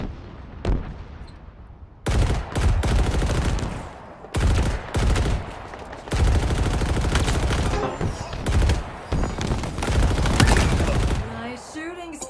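Halo gameplay gunfire, with dense bursts of rapid automatic fire in long loud volleys separated by short pauses, close and dominant, and a voice speaking near the end.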